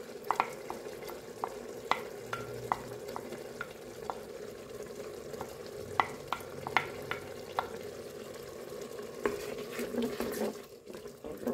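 White wine evaporating in a pan of Roman-style tripe gives a steady low sizzle. Sharp clicks and scrapes of stirring repeat over it, and a louder bubbling rush comes near the end.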